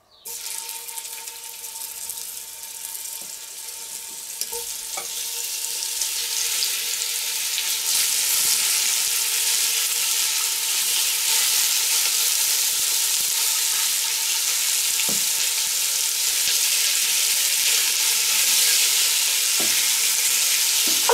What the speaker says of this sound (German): Und gleich ist es soweit, dass wir es anbraten können.